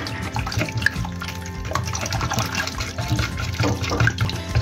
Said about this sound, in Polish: wlewamy je do gorącego mleka